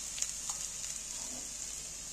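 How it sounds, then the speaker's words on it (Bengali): Quiet, steady sizzle of a cabbage filling with ground spices frying in a pan, with a few light scrapes as it is stirred; no one speaks. "এবার নেড়ে নেড়ে ভেজে নেবো"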